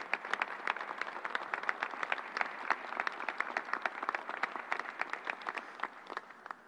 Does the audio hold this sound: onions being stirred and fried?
no